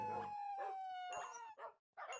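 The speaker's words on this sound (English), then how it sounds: "Come here, little dogs. I just want to murder you." Dogs howl in the Hypixel Skyblock video game, with a long sustained tonal howl followed by several shorter yelping howls, loud and close with no talk.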